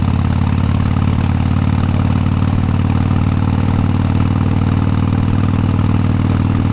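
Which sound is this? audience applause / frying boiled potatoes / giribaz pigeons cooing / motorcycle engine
motorcycle engine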